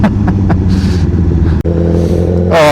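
A 2016 Honda CBR1000RR Fireblade motorcycle being ridden in first gear, its engine droning loud and steady up close with a deep harmonic hum, a brief dip near the middle, then rising revs at the end.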